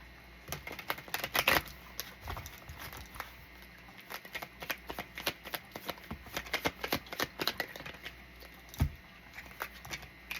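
An oracle card deck being shuffled in repeated quick riffling bursts, close and crisp, with brief pauses between handfuls of cards and no talking.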